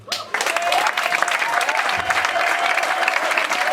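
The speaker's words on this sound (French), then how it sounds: "Nous pouvons maintenant acclamer." Guests at a Gabonese customary wedding break into sustained, dense applause that begins abruptly and holds steady and loud, with faint crowd noise mixed in.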